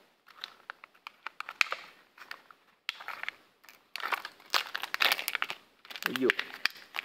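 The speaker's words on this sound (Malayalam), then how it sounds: "നമുക്ക് ടോയുടെ സെക്ഷൻ അൺബോക്സ് ചെയ്യാം." A Japanese candy toy package is unwrapped close up, with sharp bursts of plastic wrapper crinkling and rustling in irregular clusters, alongside some talking.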